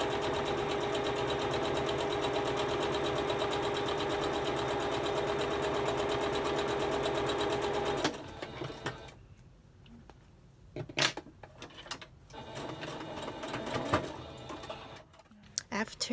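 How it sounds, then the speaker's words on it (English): A sewing machine runs steadily for about eight seconds, stitching one long seam down a fabric pleated face mask, then stops, leaving quiet handling sounds and a few clicks. "bring this to the sewing machine and again stitch one line all the way down"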